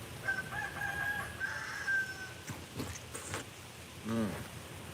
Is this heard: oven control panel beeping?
no